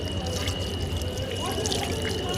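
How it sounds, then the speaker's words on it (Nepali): Hot water pours steadily from an outlet at a roadside rest stop on the drive from Kathmandu to Upper Mustang, a continuous nearby splashing stream with a faint steady tone behind it. "ए पुरै तातो पानी आयो"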